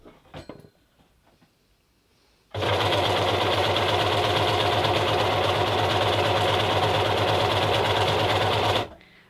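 An overlocker serger sewing machine starts after a few quiet handling sounds and runs continuously at high speed with a loud, fast mechanical whir for about six seconds before stopping abruptly.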